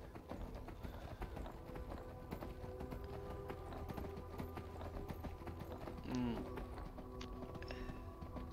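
Horse hooves gallop in Skyrim, a steady rapid clip-clop running throughout under game music and ambient tones, with a brief louder thump near the end.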